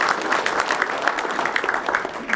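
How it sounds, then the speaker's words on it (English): An audience at an agriculture biomanufacturing forum gives a short burst of steady clapping, moderately loud and even, with no talk over it. "Give these two a nice round of applause."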